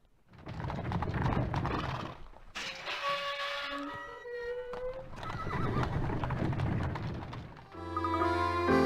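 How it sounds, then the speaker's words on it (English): In the Professor Layton video game, a horse-drawn carriage arrives with rhythmic clip-clopping hooves and rattling wheels, broken by a loud whinny in the middle, then the clatter resumes and ends on a musical sting. "Say, there's the carriage now."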